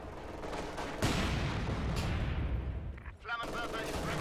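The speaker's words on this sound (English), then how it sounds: "MG42 suppresses the DP irregulars." MG42 machine gun firing in the Company of Heroes 2 strategy game amid battle noise, with a dense rumbling burst of gunfire and explosions at moderate distance, blended with a voice talking over it.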